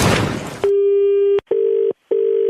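After a burst of noise, a telephone handset gives a steady electronic tone, then two short repeated beeps broken by brief silences, loud and close.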